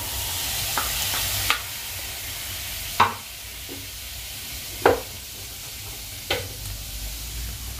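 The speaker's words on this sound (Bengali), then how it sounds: "এবার আমি এটাকে ছেঁকে নিচ্ছি" Ground plum pulp being pressed and stirred through a metal sieve for homemade plum jam, giving sparse scraping strokes and a few sharp taps against a quiet kitchen background.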